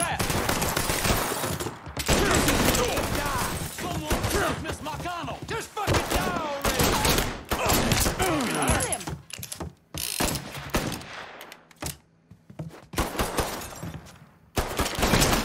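Gunfire in a shootout in the video game Mafia III, bursts of rapid shots and mechanical clatter crowding together, loud and close, with a few short gaps and shouting voices mixed in.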